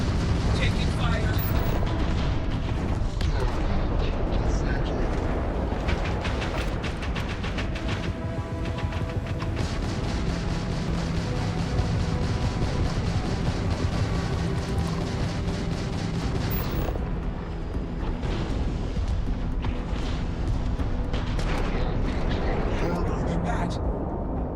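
Dense, continuous gunfire and explosive booms from combat in the video game Starfield, played on Very Hard difficulty, rumble loudly and steadily throughout, with a voice speaking over the battle noise.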